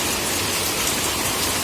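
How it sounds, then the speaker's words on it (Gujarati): Heavy rain falling, a dense, steady, loud hiss of rain on surfaces with no thunder audible in this short stretch. "જોરદાર ગાજવી સાથે વરસાદ આવ્યો"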